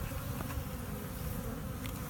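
A dense, steady hum of honeybees buzzing around a hive on a cold day, loud and continuous, with no breaks and no voices.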